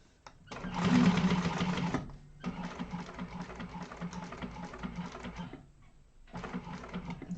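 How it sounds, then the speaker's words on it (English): Sewing machine top stitching the bottom of an organizer bag, running in bursts of steady rapid whirring with short pauses between seams, close and clear with no talk. "let's top stitch down the bottom"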